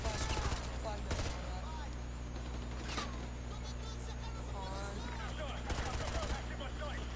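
Gunfire in the shooter game Modern Warfare 2 Remastered, with bursts of automatic fire around the start, near one second, at three seconds and again near six seconds, over steady game background noise and some talk.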